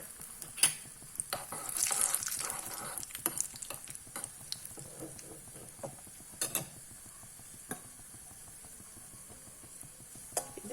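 Cashew nuts frying in hot fat in a pan while being stirred, with scraping and clattering stirs and a soft sizzle running throughout, in maladu sweet preparation.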